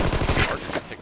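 Rapid automatic gunfire from the video game Armed and Dangerous rattles in a loud, dense burst of shots lasting about a second.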